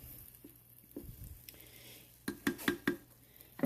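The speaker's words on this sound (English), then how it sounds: "give them one more stir to just loosen them" A spoon stirs thick apple butter in a pot, giving soft wet squishes and scrapes that build into several sharper clanks against the metal near the end, close up and with no talking.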